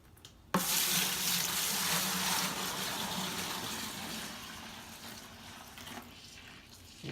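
Soured beer wort pours in a steady splashing rush into a fermenter, close by, gradually easing off after several seconds.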